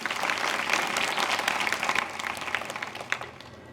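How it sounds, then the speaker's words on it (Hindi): A school assembly at an inter college claps loudly for the children, dense crowd applause that stays full before thinning out toward the end into scattered claps. "इनके लिए जोरदार ताली हो जाए। अपने लिए बजा लो ताली।"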